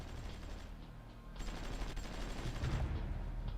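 Heavy bombardment gunfire in the war strategy game Supreme Ruler Ultimate: a continuous low rumble of distant fusillade and machine-gun bursts, growing louder and denser in the second half, with no talking.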